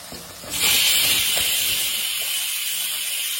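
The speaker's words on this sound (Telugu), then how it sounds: "ఇప్పుడు టమాటా పేస్ట్ వేద్దాం దీనిలో." Tomato paste hits hot oil with fried ginger-garlic paste in a pan for pav bhaji, bursting into a loud, steady steam-like hiss that begins abruptly and holds, slowly easing.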